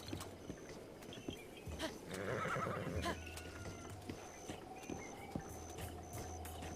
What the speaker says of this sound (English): Back to my horse.